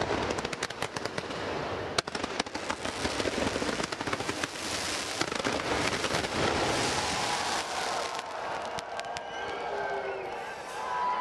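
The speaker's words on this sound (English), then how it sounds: "Those fireworks just for you, Kuldeep." Fireworks bursting at a cricket tournament award ceremony, a dense rapid crackle of loud bangs and pops with crowd noise underneath, easing into a softer fizzing rumble toward the end.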